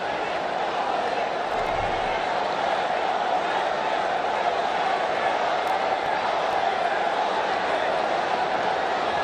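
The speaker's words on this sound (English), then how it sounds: "Outstanding crowd here at this stadium today, and they're very vocal right now." A packed cricket stadium crowd at an India vs Pakistan Asia Cup final keeps up a loud, continuous roar of cheering, with a commentator's voice running beneath it.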